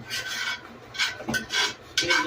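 A utensil rasps and scrapes chicken and garlic-onion cream sauce from a cooking pan in several short bursts, close and fairly loud, with no talk.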